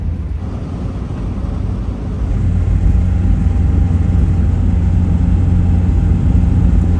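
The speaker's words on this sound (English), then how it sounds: "The Miata is still chugging." A Mazda Miata engine runs steadily during a test drive after a head gasket repair, a loud continuous low rumble and road drone that swells slightly after the first couple of seconds, with no talk.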